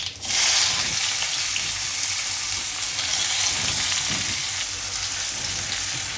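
Onion frying in a pan after garlic, cumin and mustard seeds, a steady loud sizzle that runs unbroken throughout with no voices.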